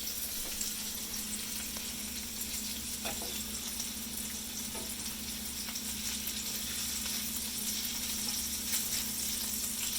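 Meatballs browning in a pan give a steady, dense sizzle and crackle, fairly quiet and close, with occasional light clicks as they are moved, and no voices.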